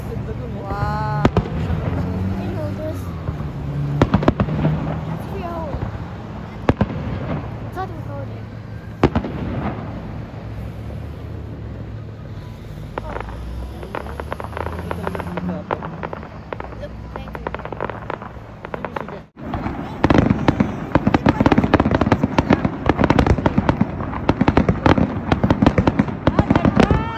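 New Year fireworks crackle and burst in repeated loud pops, growing denser and heavier toward the end, with people talking throughout.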